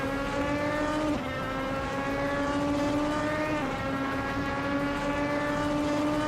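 A 2016 Audi R18 prototype racing at Bathurst in a racing video game roars at steady high revs, with loud sustained engine tones that briefly drop as it shifts gears twice.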